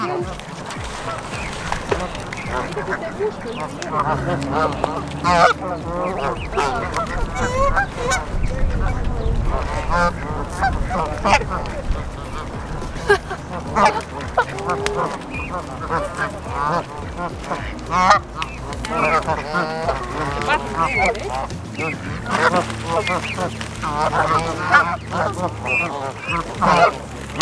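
Wild geese honk loudly and continuously throughout, a dense chorus of overlapping calls close by at a lake in Albuquerque, New Mexico, with people talking intermittently underneath.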